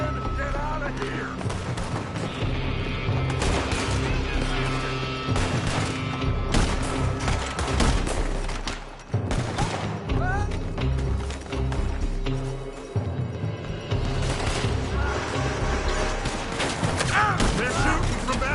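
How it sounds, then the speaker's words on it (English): Red Dead Redemption 2 gunfight with shots fired from a building: a near-continuous barrage of loud, overlapping gunshots and booms under game voices throughout. "They're shooting from that building."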